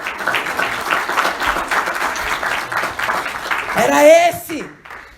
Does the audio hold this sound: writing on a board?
no